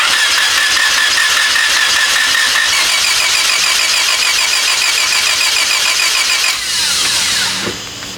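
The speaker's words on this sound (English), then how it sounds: "the car runs, and I'm gonna show you guys here right now" A car engine fitted with a Burton Racing coil-on-plug kit cranks and catches, then runs loud and close at a rough, busy idle before dropping off near the end.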